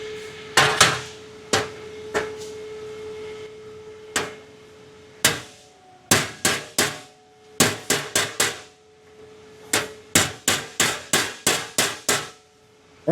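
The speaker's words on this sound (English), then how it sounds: "I can probably just hammer and dolly this" A body hammer strikes a metal panel backed by a dolly, loud, sharp ringing blows near at hand, some single and some in quick bursts of several hits, with pauses between and no talking.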